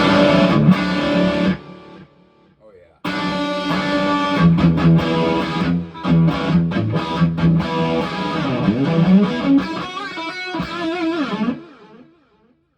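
Electric guitar played through a Marshall amp with reverb and delay, loud distorted chords and riffs with echoing tails, a brief pause near the start, ringing out at the end; a voice briefly exclaims.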